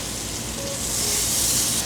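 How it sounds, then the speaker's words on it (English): Steak cooking in a pan with butter and garlic, seared rare to medium rare, makes a loud, dense, continuous sizzle and hiss that swells slightly toward the end, with no talking. "The steak is cooking right now"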